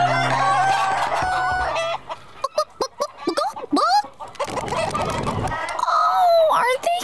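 Cartoon chickens cluck and squawk in a hen house, with excited bursts of clucking between short pauses and cartoon voices talking over parts of the scene.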